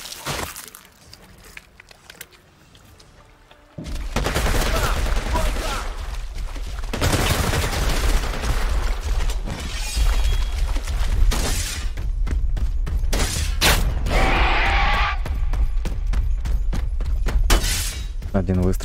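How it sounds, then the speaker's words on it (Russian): Bursts of shotgun fire in the video game Predator: Hunting Grounds, heavy booming shots and clatter after a quiet start, dense and loud throughout, with Russian talking mixed in. "Один выстрел с первого дробовика."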